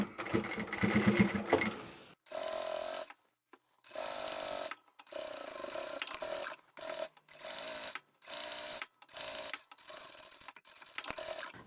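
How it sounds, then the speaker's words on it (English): A sewing machine stitches two rows across the flap of a lined tote bag. The motor whirs in several bursts of one to two seconds, divided by short pauses, and is heard close and clear with no voices. "fold that flap down and we can do the 2 rows of stitching"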